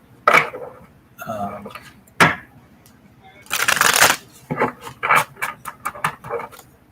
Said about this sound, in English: So let us shuffle the cards here.